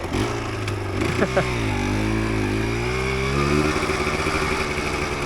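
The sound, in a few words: 1988 Yamaha DT200 motorcycle engine running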